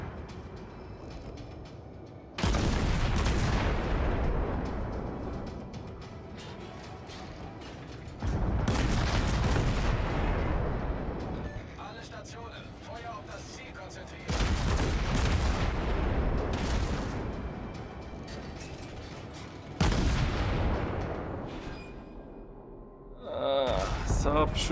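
Battleship guns fire in World of Warships, four heavy booming salvos spaced several seconds apart, each rolling out into a long rumbling decay, with a voice talking faintly underneath.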